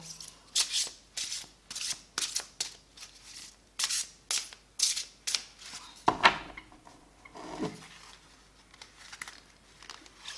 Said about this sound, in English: I'm going to pick 4 more cards for pile number 4.